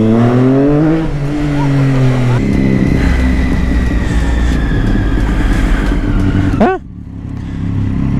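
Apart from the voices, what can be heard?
motorcycle accelerating, revving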